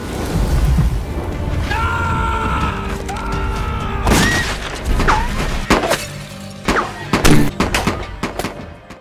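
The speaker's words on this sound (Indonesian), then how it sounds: "di dalam tas si Abah ada peluru yang membuat peluru tersebut meledak" Bullets exploding inside a bag: a muffled rumbling struggle gives way to a burst of sharp cracks and pops, several loud bangs in quick irregular succession, with shouts mixed in.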